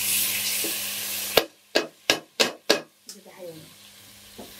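Broken rice fried in a pan gives a hiss at first, then five short sizzling bursts in a row as it is stirred and tossed, each stopping abruptly, followed by quieter scraping and faint sizzle.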